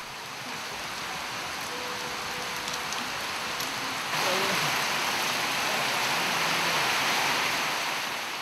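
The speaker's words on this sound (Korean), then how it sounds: "비가 내리자" Heavy tropical rainy-season rain in Tuvalu pours down steadily as a dense, loud hiss that swells stronger midway through, with no voices.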